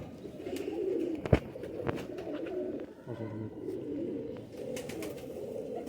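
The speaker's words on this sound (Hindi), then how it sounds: "एक कबूतर छत वाला, एक शर्मीला। दूसरा कबूतर शर्मीला है।" Nayab Sialkoti breed pigeons coo close by in low, throaty rolling bursts, with a sharp tap or two and light rustling between calls.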